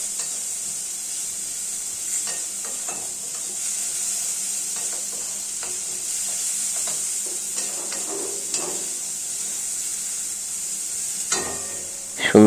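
Fried rice ingredients frying in a pan with salt added, a steady loud sizzle running throughout while a utensil stirs and scrapes in irregular bursts, ending with a sharper clatter.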